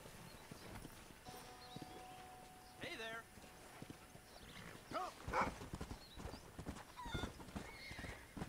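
Horse hooves clip-clopping in Red Dead Redemption, a steady close walking rhythm with a whinny partway through and a voice talking over the game.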